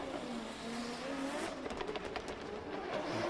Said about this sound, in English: As you hear, the anti-lag still turned on and it stopped in one spot.